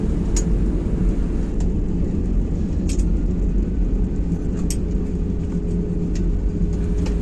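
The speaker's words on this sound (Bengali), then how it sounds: "তারপরে ইঞ্জিনের স্পিডটা আস্তে আস্তে কমিয়ে দেওয়া হলো।" An IndiGo airliner's engines wind down after landing, a loud steady broadband roar that fills the whole stretch with no talk.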